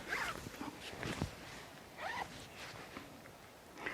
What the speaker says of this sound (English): because you have all the zippers here